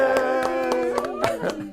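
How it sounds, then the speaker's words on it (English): Brief scattered hand claps in a small room, several sharp bursts close by as a group applauds children who have just had their shots, with bright tonal sounds sustained underneath. "We're going to give you a round of applause."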